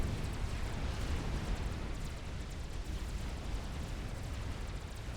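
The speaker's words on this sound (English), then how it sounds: "A bunch of missiles just raining out, going for P-gens, looking for that AoE volatile explosion." Artillery missile barrages exploding in the Supreme Commander strategy game, a dense continuous rumble of overlapping blasts and crackle with no distinct gaps, steady and fairly loud throughout, no voices.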